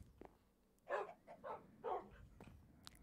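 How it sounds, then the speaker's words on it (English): Several Minecraft dogs (tamed wolves) bark in the game, giving about four short barks at a moderate level with brief gaps between them. "So many dogs."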